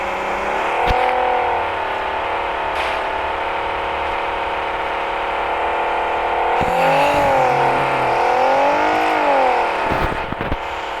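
A car engine drones steadily in the BGMI video game, with its pitch rising and falling as the car accelerates and slows. The engine is loud and continuous, with a few brief thumps along the way.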